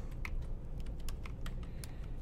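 Fast typing on a computer keyboard, a rapid string of close, crisp key clicks in an irregular rhythm with no voice.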